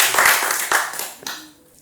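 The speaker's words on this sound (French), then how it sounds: "On applaudit pour lui, s'il vous plaît." A small audience at a young singles speed-dating event applauds in a short burst of claps that is fairly close, thins out after about a second and fades away.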